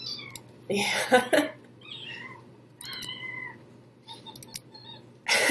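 A woman mimics a cat's meow with her voice, giving a couple of high, whiny meow-like calls between brief bits of other people talking.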